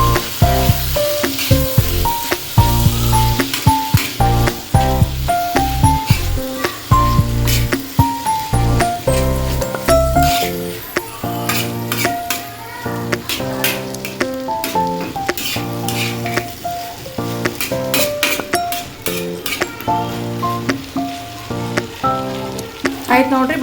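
Okra fries with peanut powder while it is stirred. A loud, close sizzle and stirring run under melodic background music for the whole stretch.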